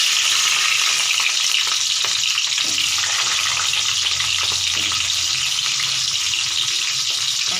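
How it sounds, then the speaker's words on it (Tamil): Onions drop into hot oil for a drumstick tamarind kuzhambu and fry with a loud, dense, continuous sizzle at close range, unbroken for several seconds with no talking. "எண்ணெய் காஞ்சது வெங்காயம் போடுறோம்"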